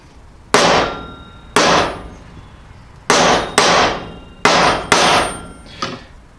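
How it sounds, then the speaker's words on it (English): A hammer strikes rivets on a Gravely sickle bar cutter section, seating them with seven loud, sharp metallic clangs spaced unevenly, each ringing briefly before fading, close by and with no speech. "I find the first couple of hits with a hammer, you want to get some decent weight behind it"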